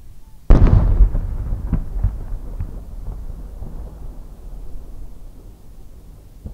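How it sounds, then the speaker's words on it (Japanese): A traditional Japanese triple-core chrysanthemum firework shell bursts with one loud boom, followed by a long rumbling tail and scattered crackles fading over several seconds at an evening fireworks festival. "三重に芯の入った日本の伝統的な菊型花火で、最後に大きな円が残って余韻を残しながら消える花火です。"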